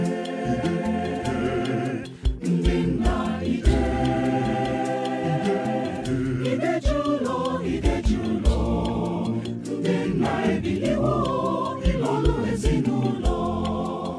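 Choir vocals run through tape saturation compression, a full, dense blend of sustained sung harmonies with thick low end, steady and loud throughout with brief dips near the start.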